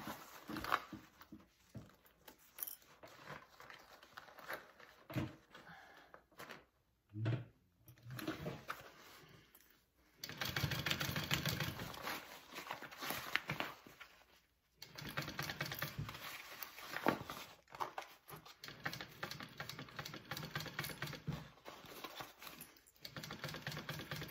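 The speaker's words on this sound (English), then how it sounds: "let's sew this on at a 3/8 seam allowance again" Sewing machine stitching a 3/8-inch seam on a sling bag, running in steady bursts of rapid mechanical chatter broken by brief pauses, close and fairly quiet.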